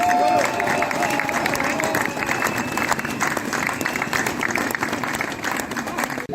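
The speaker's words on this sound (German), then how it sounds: "da darf man vielleicht auch mal einen ganz großen Applaus an der Stelle lassen" A large crowd at an outdoor farmers' rally in Traunstein breaks into strong, sustained applause with some cheering mixed in, tapering slightly toward the end.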